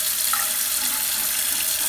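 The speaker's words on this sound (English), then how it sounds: "What we'll do now is we'll turn the water on," Bathroom faucet being replaced for a drip fault runs water in a steady, close, even hiss and splash, with no talking over it.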